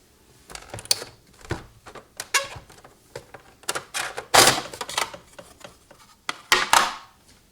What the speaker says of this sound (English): slide open the PS4 hard drive bay cover like so.